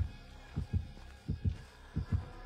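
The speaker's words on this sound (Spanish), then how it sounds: "Siento los latidos." Heartbeat proximity cue from the Dead by Daylight video game, played as deep, low double thumps in a steady rhythm of three pairs over a faint background hum.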